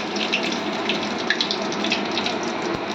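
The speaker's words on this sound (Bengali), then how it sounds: "এখন দেখো এর মধ্যে জিরে আর তেজপাতাটা দিয়ে দিলাম" Cumin seeds and bay leaf dropped into hot oil in a wok give a steady, close, bright sizzling hiss that runs unbroken and evenly loud throughout.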